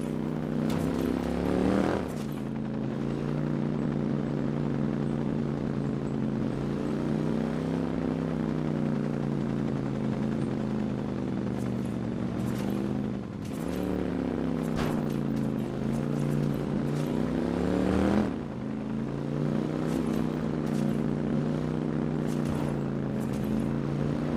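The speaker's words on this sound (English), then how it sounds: "So basically, the chopper's gonna lead us to the security chief." A helicopter flying in the Watch Dogs video game, heard as a steady droning engine hum with pulsing tone that swells and shifts over about twenty-four seconds, with brief sharp clicks and hits scattered through.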